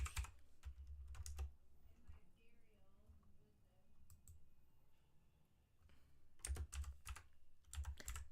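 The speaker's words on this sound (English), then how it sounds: "Typing with one hand's hard." A computer keyboard is typed on with one hand in bursts of close clicking keystrokes, with a quieter stretch in the middle and faint talk underneath.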